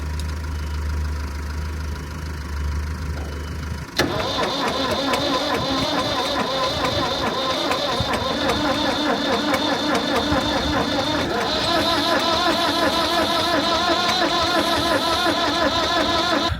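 An old Massey Ferguson 50 digger's engine cranks over and over and fails to start. The cranking starts abruptly after a low hum, with a fast, loud, rhythmic churning that carries on close by without catching.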